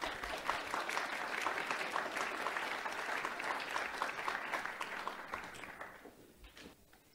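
Sustained audience applause greets an EU Director General at a crowded trade-policy forum, steady clapping from many hands that fades out toward the end.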